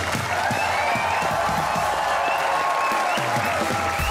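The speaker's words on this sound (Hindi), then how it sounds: "तो तालियों की ऊंची होगी आवाज।" A studio audience at a comedy talk show claps loudly and continuously to welcome two guests, a dense, even burst of applause with faint cheering mixed in throughout.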